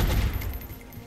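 Suppressing machine-gun fire in the video game XCOM Enemy Within with the Long War mod, a dense rapid burst of low booming shots lasting about a second.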